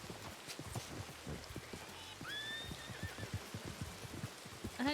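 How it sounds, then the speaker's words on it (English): In a video game, a horse answers a whistle with a rising, whinnying neigh over a patter of rain-like noise and hoof-like knocks. "I whistled for my horse."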